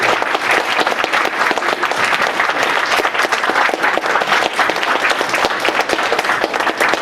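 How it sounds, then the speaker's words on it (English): A large audience at a fan convention Q&A panel applauds steadily, a dense and even wash of many hands clapping at once that holds loud throughout. "give a round of applause for the vendors"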